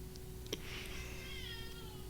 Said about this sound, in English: what is that? That's a cat at the door.